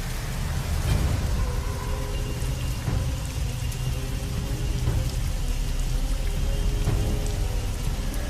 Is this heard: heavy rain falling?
yes